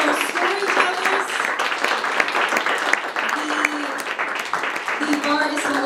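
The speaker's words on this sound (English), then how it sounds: "Give another round of applause for our storytellers" Audience applause at a live storytelling night in a bar: a loud, sustained crowd clapping with scattered cheers, and voices talking and calling out over it.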